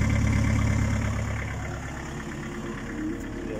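Mitsubishi L200 DiD diesel pickup fitted with a big Borg Warner turbo, idling with a low, steady rumble and a faint whistle above it, fading slightly and then swelling again near the end.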